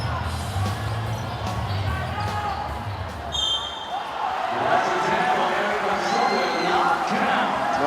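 A home crowd in Pasay cheers and whoops at a pre-season MPBL basketball game against Caloocan, a broad roar that swells under a commentator's voice after a ball bounce.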